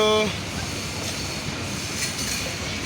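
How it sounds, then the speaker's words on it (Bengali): The Drutojan Express rumbles past at Ibrahimabad with steady broadband roar and faint rail clatter, a brief horn-like tone at the very start. "ইব্রাহিমাবাদে যান এক্সপ্রেস ট্রেনটি কোর্সিং দিল"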